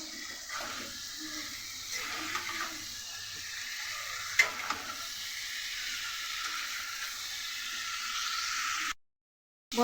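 Water spinach and Malabar spinach sizzle in a hot pan with turmeric and salt, a steady frying hiss broken by a few scraping stirs and clinks.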